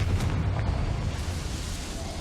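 Confringo fire-blast spell in Hogwarts Legacy, a rumbling explosive burst with a dense, noisy roar that stays loud and sustained for a couple of seconds.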